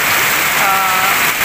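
Heavy rain pours steadily in the Philippines, a dense, even hiss of drops on surfaces with no break, close and loud throughout.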